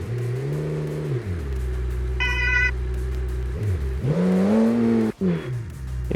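A V10 police car in the BeamNG driving game revs hard, its engine note climbing, dropping and then surging again in two loud, close bursts. A brief high electronic tone is heard partway through.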